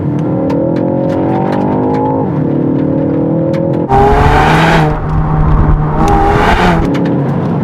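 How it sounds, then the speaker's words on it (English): A Ford Focus ST engine revving hard after dropping down several gears, loud and close, with rising engine pitch, a brief dip, then a rougher surge of roaring acceleration. "drop it back a gear or 3 to make it sound dramatic"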